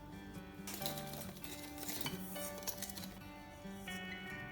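Metal utensils clink and scrape against a pot in a steady stirring rhythm as sugar, flour and starch are mixed, close and fairly clear, with no talking.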